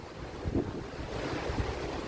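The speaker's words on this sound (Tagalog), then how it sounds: "Ang lakas nga naman kasi talaga ng alon." Strong ocean waves surge at White Island, Camiguin, a continuous rumbling wash of surf mixed with gusty wind buffeting the microphone, with no voices heard.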